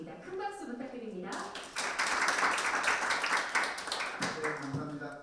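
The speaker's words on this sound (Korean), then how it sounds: "큰 박수 부탁드립니다." Audience applause at a National Assembly policy forum on sustainable health insurance, a dense burst of clapping that swells and fills the room for several seconds before tapering off, with a voice speaking over it.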